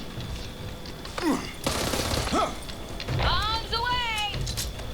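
Gunfire from the zombie shooter game Back 4 Blood, several bursts of shots with booming impacts mixed into busy game audio while people talk over it.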